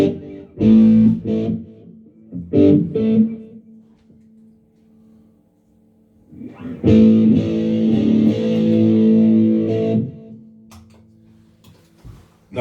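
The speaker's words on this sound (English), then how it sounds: "Not used to using the distortion" An electric guitar played through a distortion effect sounds in two short bursts of chords followed by a longer sustained chord that rings out, heard alone at close range.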